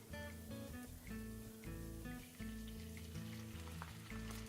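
Steady sizzling from white wine poured into a hot pan of caramelizing food at an outdoor cooking show, with soft crackles and spatters running throughout while music plays in the background.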